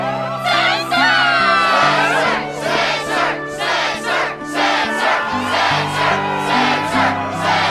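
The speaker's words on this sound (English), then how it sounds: "Yes, the crowd is fired up" Crowd cheering at a struggle tournament in the Kingdom Hearts II video game, rhythmic rising whoops and shouts from many voices over steady game music, loud and continuous.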